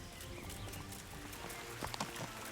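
Horse hooves clip-clopping in Kingdom Come: Deliverance, a fairly quiet, steady run of hoofbeats under broadband ambient game noise, with a couple of sharper knocks near the end.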